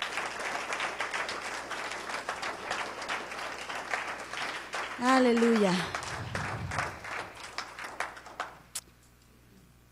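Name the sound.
audience applause for the Lord in church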